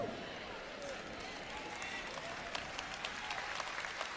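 An audience at a Christian sermon breaks into steady, dense applause that lasts the whole stretch, a continuous wash of many hands, with faint crowd voices mixed in.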